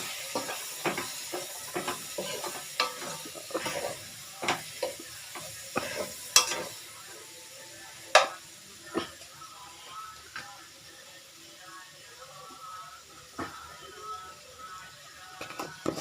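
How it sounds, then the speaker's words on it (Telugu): Chopped tomatoes frying in a pan of oil for a small-fish and broad-bean curry give off a soft, steady sizzle, broken by sharp clicks and scrapes of a spoon stirring against the pan, with no talk. "ఆ టమాటా దీంట్లో వేస్తున్నానండి."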